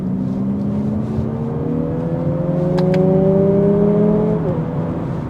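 A 2024 Lexus UX300h F Sport pulls hard on an open road, its artificial engine note rising steadily in pitch as it accelerates, loud and close, with a steady road and wind roar underneath and no talking.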